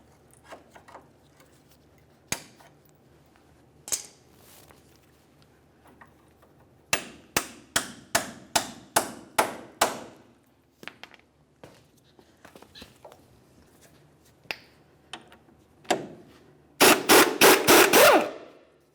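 A hammer strikes a Ford Ranger steering knuckle to knock the outer tie rod end loose, giving sharp metallic blows: scattered single hits, then a rapid run of about eight, and a final loud burst of quick strikes, with no talk.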